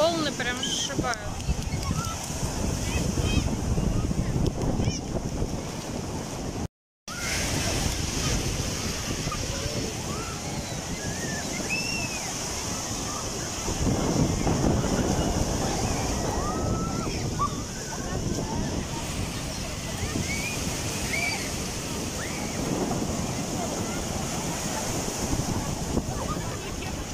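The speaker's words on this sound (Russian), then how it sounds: "Волны прям сшибают." Surf crashes and rushes continuously on a beach at Anapa while wind buffets the microphone, with occasional voices faintly mixed in.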